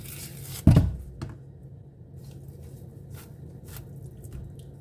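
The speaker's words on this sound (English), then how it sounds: "so I'm just going in ahead to cut" Knife slicing through plantain on a cutting surface, one firm close chop followed by a few faint softer cuts in a quiet setting.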